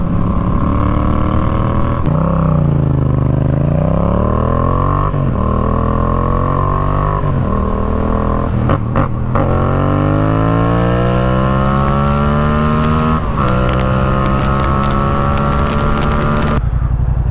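Yamaha FZ-07 motorcycle with a full exhaust, its engine loud and close as it revs up and down repeatedly, moving from a low cruiser-like rumble to higher rising pitches across several throttle swells and shifts.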